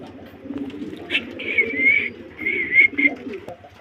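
White grizzle pigeons kept for sale cooing in repeated soft, throaty bursts nearby, with a low background hum and faint talk behind them.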